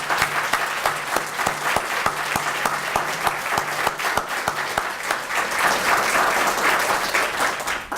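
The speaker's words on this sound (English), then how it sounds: "if we could give her a round of applause" Sustained audience applause at a talk on psychiatry, dense steady clapping from a crowd throughout, fairly loud with a slight swell toward the end.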